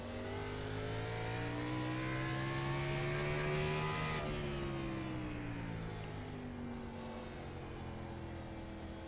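A sim race car engine heard on board for a lap at Martinsville Speedway, loud and steady, its pitch climbing and sliding between gear changes with no talk over it.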